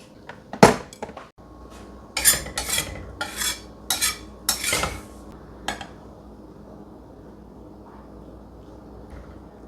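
Metal utensil scraping and clinking against a pan while stir-frying in a home kitchen, a burst of sharp clatters followed by a run of rhythmic scraping strokes, then quieter.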